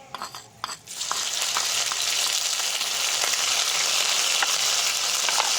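Ground spice paste hits hot oil in a pan tempered with dried red chillies, whole garam masala and cumin for a jackfruit curry. A few faint clinks come first, then a loud, steady, hissing sizzle holds to the end.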